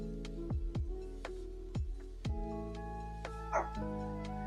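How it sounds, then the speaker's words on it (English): A dog barks several times in short, sharp bursts, a few quick yips close by, over a steady tonal background. "Why are you barking at me?"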